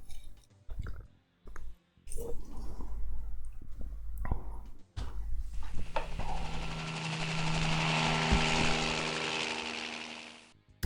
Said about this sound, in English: Okay, the helo is coming from the parry.